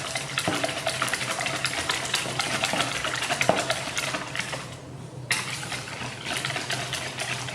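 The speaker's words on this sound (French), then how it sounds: "Et on mélange le tout. On mélange le tout ici." Cheese puff pastry ingredients are stirred and mixed in a kitchen, a steady soft scraping and swishing with occasional utensil taps against the bowl, fairly quiet and close, without talking.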